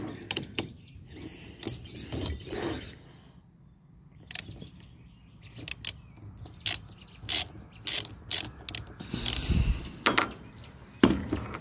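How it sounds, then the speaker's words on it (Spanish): Manual ratchet driving a bolt into a 42-inch Husqvarna tractor mower deck housing while a blade spindle is replaced, with repeated sharp clicking bursts and pauses, close up, and no talking. "una matraca manual"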